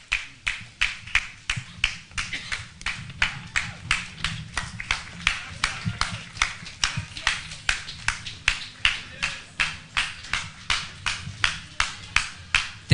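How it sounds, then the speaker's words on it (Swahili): A crowd at a reality show launch event claps for the production team with a fast, steady run of sharp handclaps. The claps repeat evenly and fairly close for about thirteen seconds, with little else heard. "Tuwapigie makofi."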